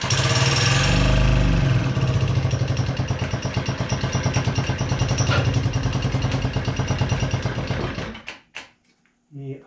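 Honda Met scooter engine idling after a rough start, a steady close putter with a fast rhythmic pulse that gradually fades, then sputters and cuts out near the end.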